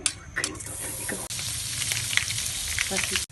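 Butter melting and sizzling in a pan as the base for white sauce for pasta, a steady close frying hiss with light stirring scrapes, no talking.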